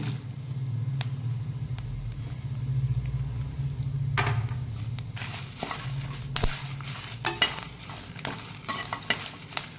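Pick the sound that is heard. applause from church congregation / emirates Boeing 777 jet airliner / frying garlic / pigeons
frying garlic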